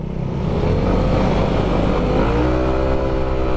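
A motorcycle engine revs loud and close, a steady throaty drone with rising pitch sweeps as the throttle climbs, running continuously without any talk.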